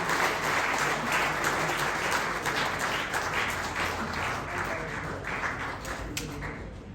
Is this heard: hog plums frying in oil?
no